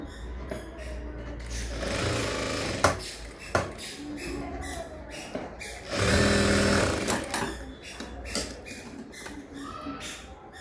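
A sewing machine stitches blouse fabric in rapid mechanical bursts, with a long steady run near the middle and shorter starts and stops around it, close and clear with no speech.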